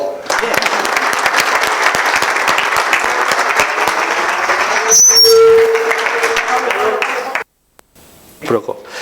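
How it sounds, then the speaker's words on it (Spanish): An audience at a talk applauds the speaker in a sustained wash of clapping with a brief whistle partway through, then cuts off abruptly near the end as a voice begins. "Otro aplauso, por favor."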